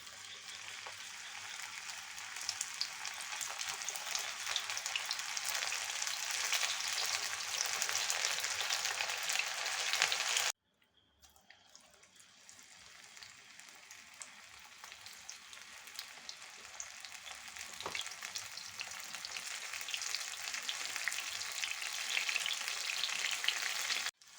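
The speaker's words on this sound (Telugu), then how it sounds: "అన్నీ కలిపినా అండి. నూనెలో వేస్తున్నానండి." Meal maker snacks coated in ginger-garlic paste and coriander powder fry in hot oil with a steady, loud sizzle, briefly cut off midway before resuming at full crackle, with no voices.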